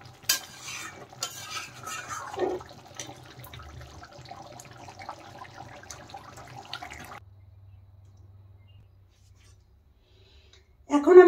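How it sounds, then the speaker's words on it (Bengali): Garam masala is stirred into paneer in a pan: a spoon scrapes and clinks steadily over a gentle sizzle for several seconds, then near silence before a short, louder burst at the end. "দিয়ে দিলাম গরম মশলা গুঁড়ো। নেড়ে দেব।"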